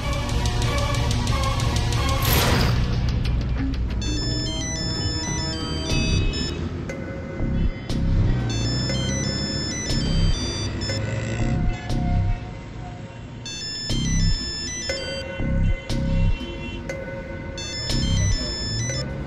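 Mobile phone ringtone playing a repeated melodic tune at steady volume, ringing on and on for a long stretch with no one answering.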